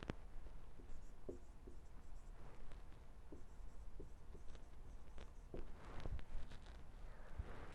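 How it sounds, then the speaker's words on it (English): Marker or chalk writing a sentence on a classroom board, a steady scratchy stroking with short taps and squeaks in uneven bursts, close and alone with no talking. "Let us write a sentence here."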